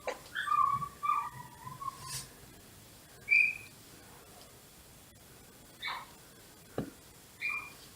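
A female dog whimpers and whines in short high-pitched bursts, wanting to be let in, with several separate whines spread across a quiet stretch, fairly close.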